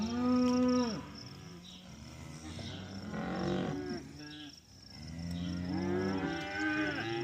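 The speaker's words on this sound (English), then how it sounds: "So they'll just moo and beller and mosey around." Cattle on a ranch moo and beller repeatedly, several animals calling in long, loud, overlapping bellows over a steady outdoor background, with no talking.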